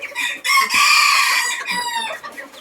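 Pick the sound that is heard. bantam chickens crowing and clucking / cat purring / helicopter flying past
bantam chickens crowing and clucking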